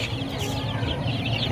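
Brooding pen of week-old chicks and for-sale chickens, a mix of Hubbard, BA and Rhode Island Red, clucking steadily and close by, with soft overlapping calls and no talking.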